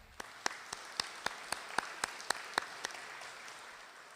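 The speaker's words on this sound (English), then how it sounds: "I'd like to give her a round of applause" A few people clap slowly and sparsely at an annual congregation meeting, about a dozen distinct claps spaced evenly, fairly faint, with no talk over them.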